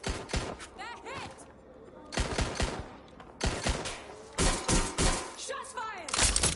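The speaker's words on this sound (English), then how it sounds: "Shots fired!" Bursts of gunfire from Watch Dogs: Legion come in loud, dense volleys separated by brief lulls, with shouting voices mixed in among the shots.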